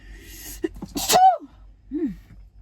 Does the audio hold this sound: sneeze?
yes